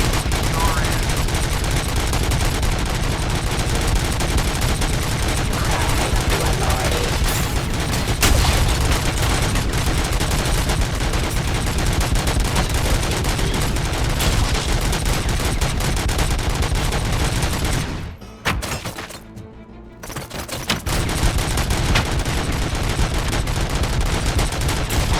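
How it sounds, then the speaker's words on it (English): Dense, continuous gunfire from the RoboCop: Rogue City video game, loud bursts of shots and rapid automatic fire rattling almost without pause, dropping away briefly near the end before resuming. "I can't hear you over all the shots happening."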